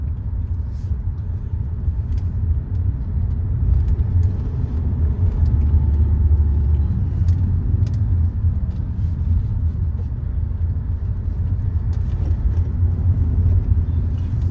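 A 2025 Hyundai Creta base-model SUV drives along a road, heard from inside as a steady low cabin rumble of engine and tyre noise with no talking.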